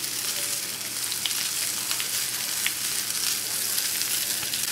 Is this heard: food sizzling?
yes